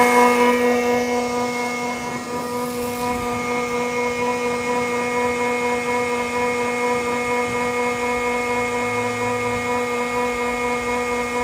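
A 56V softwash spraying system runs at just over half RPM outdoors on a windy day, giving a steady, loud motor whine with constant tonal hum and no talking.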